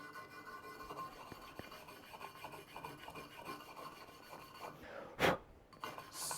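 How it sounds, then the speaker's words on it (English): A stainless steel wire brush scrubs the edge of an aluminium piece being prepared for brazing with Durafix rods, making a steady, rapid rasping scratch, followed near the end by a single sharp knock. "It's a stainless steel brush."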